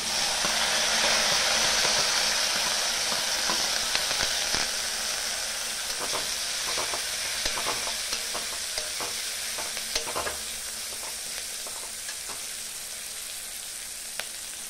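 Onions frying in hot oil with neem leaves for a drumstick bhaji, a loud continuous sizzle that eases slightly over time, broken by frequent sharp spoon scrapes and stirring clicks.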